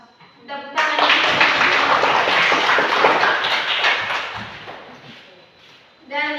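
Classroom audience breaks into lively clapping after a group presentation, starting abruptly, holding strong for several seconds and tapering off, with a voice briefly audible before and after.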